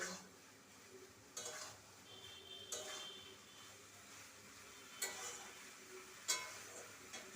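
Lotus stems sauté with prawns in a pan, a soft, quiet sizzle broken by four sharp scrapes of a spatula stirring at a slow, even rhythm.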